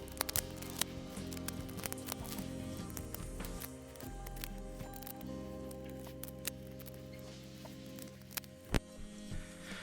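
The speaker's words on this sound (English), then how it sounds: "cutting off the excess masking tape, being extra careful not to scratch the mating surfaces where the gaskets seat." Scissors snip excess masking tape off motorcycle engine cases during an Aprilia MX125 supermoto build, giving faint, irregular clicks and snips over a constant low background hum, with no talking.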